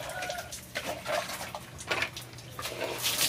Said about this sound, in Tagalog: Ibubuhos sa ulo.